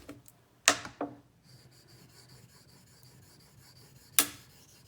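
A ZT 0620 Elmax steel knife is worked on a sharpening whetstone with quiet, close, steady rasping strokes, broken by a few sharp scraping knocks.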